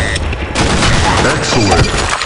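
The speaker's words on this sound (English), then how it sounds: "Fire in the hole! Grenade!" A video game grenade explosion, a loud booming burst with rumbling aftermath and crackling debris, overlapped by game voice callouts and other battle noise.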